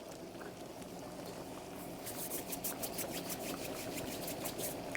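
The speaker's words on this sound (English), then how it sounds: "The pot is bubbling." Pot of pumpkin, fish and lentil soup bubbling on the stove, a soft steady simmer that grows into denser, livelier popping and burbling halfway through, close and fairly quiet with no voices.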